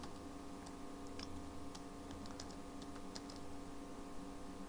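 Soft, steady keystrokes on a computer keyboard, quiet clicks in an irregular typing rhythm over a constant background hum.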